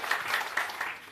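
Applause from a crowd at a panchayat committee meeting in Bihar, a short burst of dense, moderately loud clapping with a few accented claps.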